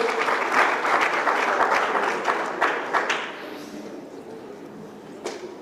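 Audience applause at a Nigerian youth conference, a dense wash of many hands clapping that starts loud and gradually fades over several seconds.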